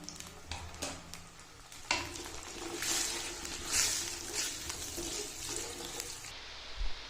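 Potatoes frying in a pan over a medium-high flame, a continuous close sizzle with scattered clinks and stirring noises that fade out near the end.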